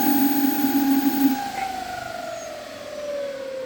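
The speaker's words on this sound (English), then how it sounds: "so now I will make the motor run" A 48V 2000W electric wheel hub motor spinning up, giving a loud whining tone that glides steadily in pitch as it runs, with no talking over it.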